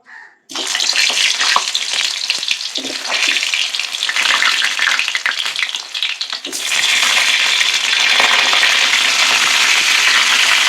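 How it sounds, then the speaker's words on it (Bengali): Flour-sealed pointed gourds stuffed with meat fry in hot oil one by one, a loud, dense sizzle that starts abruptly, dips briefly, then surges and holds steady, with no voices. "এইভাবে আমি পটলগুলো একে একে ভেজে নেব"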